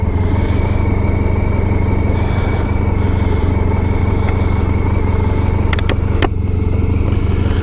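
A classic motorcycle whose carburetors had drained after sitting for a couple of days, running steadily while being ridden, with a loud, continuous engine drone and wind rush and a few sharp high clicks near the end.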